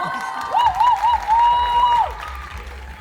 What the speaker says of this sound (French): On applaudit maman.